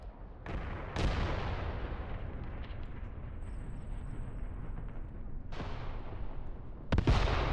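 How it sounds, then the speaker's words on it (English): Mortar artillery fire in the Mius Front video game: sharp booming launches and blasts at the start, around one second and near the end, with a rumbling, crackling battlefield roar continuing steadily between them. "Let's let the other mortar join in."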